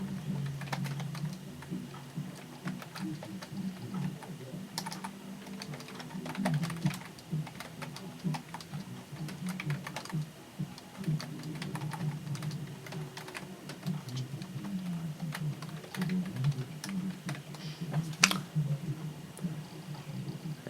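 Keys clack steadily on the keyboard of a Packard Bell Statesman computer, an uneven run of typing over a constant low machine hum, with faint talk in places.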